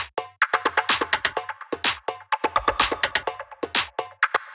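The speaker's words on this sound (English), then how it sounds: "After that, we have the percussion, which sounds like this." A busy deep minimal house percussion loop of crisp clicks, shakers and short hits repeats in a bouncy, syncopated pattern, up front and dry.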